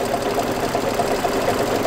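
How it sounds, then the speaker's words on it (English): A multi-needle embroidery machine stitching a background quilting design, a steady rapid mechanical chatter and hum running continuously at close range. "It's going to take 7 minutes to stitch out this first background quilting design."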